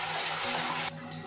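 Water poured into a cooking pan of dry masala, a loud rushing splash that runs steadily for under a second, then cuts to a quieter sizzle and hiss.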